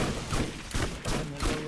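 A cannon fires in the video game Borderlands 3, a quick run of dull booming blasts and crackling bursts at moderate volume.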